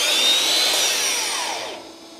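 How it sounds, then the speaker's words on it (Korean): Makita cordless power tool and cordless vacuum cleaner whirring at a high pitch together, loud and close, then winding down and fading away as they stop. "이렇게 충전 청소기가 알아서 돌아가고"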